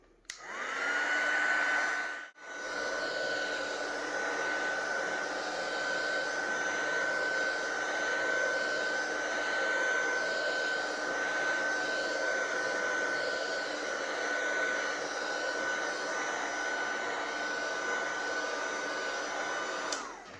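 Heat tool warming stamping foam for card making, a steady high-pitched whirring blower that briefly stops near the start, then runs continuously at close range with no talk.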